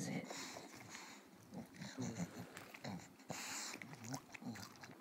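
A bulldog whimpers and grunts in short, irregular bursts, close and fairly faint, while someone talks between the sounds.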